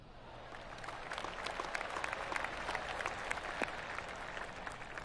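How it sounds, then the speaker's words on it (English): Spectators applaud politely at a professional PGA golf tournament on the 8th hole, a steady patter of light, scattered clapping from a gallery at moderate distance with no voices over it. "Oh, golf clap."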